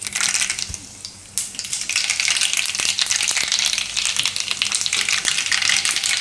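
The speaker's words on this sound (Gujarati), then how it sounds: "એમાં આપણે નાખીશું રાઈ" Mustard seeds hit hot oil in a tempering for bitter gourd peel and break into a loud, steady crackling sizzle that rises sharply after a quieter start, with scattered pops throughout.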